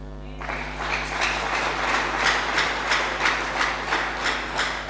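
A church congregation bursts into applause, steady clapping that swells in waves and continues for several seconds, fairly loud and indoors.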